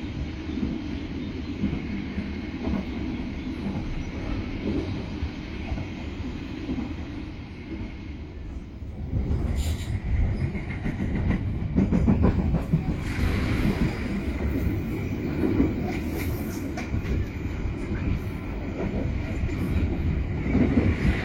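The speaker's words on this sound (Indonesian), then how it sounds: "Papasan dengan kereta api Cikuray dari Garut ke Jakarta, kelas ekonomi." Cikuray economy-class train on an Indonesian railway line from Garut to Jakarta passing close by, a continuous heavy rumble and clatter of wheels that grows louder and rougher partway through and then keeps rolling.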